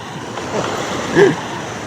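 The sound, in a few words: ocean waves breaking on a swimmer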